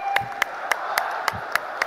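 Evenly spaced sharp claps, about three or four per second, in a steady rhythm from an audience welcoming Amit Shah at a gathering, heard over a faint background hum.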